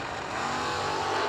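A drag race between an '82 Monte Carlo and a '75 Mercury Comet produces a brief, dense roar of racing engines at full throttle, heard at moderate distance.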